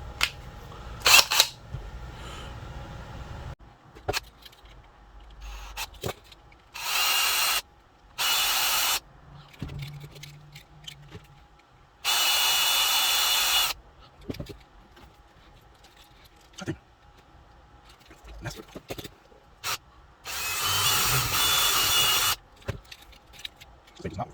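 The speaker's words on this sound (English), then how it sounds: "we're gonna have to start with getting this, drilling out these rivets" A power drill bores out stubborn rivets on a vehicle build in repeated loud whirring bursts a few seconds each, separated by quieter clanks, handling noises and talking.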